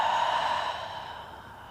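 A long, deep exhale during a Pilates bridge on the mat, one breathy airy outflow that starts strong and slowly fades to quiet, heard up close and alone.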